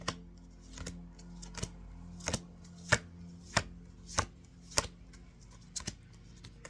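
A deck of oracle cards is shuffled and cut, giving a series of sharp, evenly spaced taps and snaps close by, about a dozen distinct hits over a soft low background.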